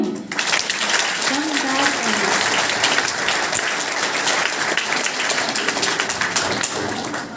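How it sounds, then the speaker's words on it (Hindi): Audience at a Trimurti Shiv Jayanti festival gathering in Mandothi, Bahadurgarh, clapping loudly and continuously, a dense wash of many hands that holds steady, with some voices mixed in. "अच्छे से ताली बजाओ भाई"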